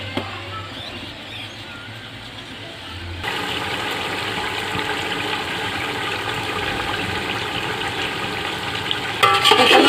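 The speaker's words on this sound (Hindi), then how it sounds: "प्याज के साथ चिकन को भी फ्राई कर लेंगे अच्छी तरह से।" Chicken and onions fry in a karahi, starting as a soft sizzle and then jumping to a loud, dense crackling hiss after a few seconds, with stirring near the end.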